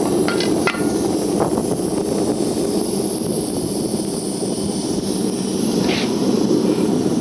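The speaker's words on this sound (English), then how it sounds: "What you hear at the moment is the steam heating up the water in there." A loud, continuous rushing roar of steam heating water in a tea urn on a Wiles Junior cooker fills the space without letup, with a few faint metallic clinks scattered through it.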